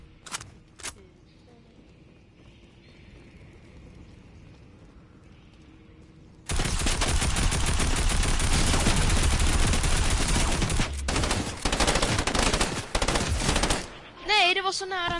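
Fortnite gunfire breaks out as a loud, sustained burst of rapid shots after a quieter stretch with a few brief clicks, continuing with short gaps to the end.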